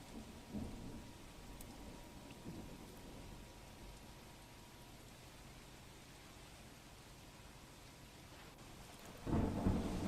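Rain falls in Meghraj, Aravalli, Gujarat, making a faint, steady hiss throughout, with a louder burst near the end.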